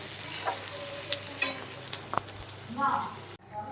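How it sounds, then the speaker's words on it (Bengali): Onions frying in oil in a kadai with whole spices, a soft steady sizzle broken by a few stirring clatters and scrapes, close and moderately quiet, ending abruptly in near silence. "পেঁয়াজটা ভাজতে দিয়ে দিয়েছি তেলের মধ্যে"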